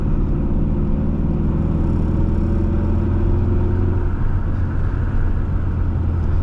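A 1987 Shelby Lancer with a manual gearbox hums along at a steady cruise, its engine and road rumble droning loud and continuous throughout, with no voices over it.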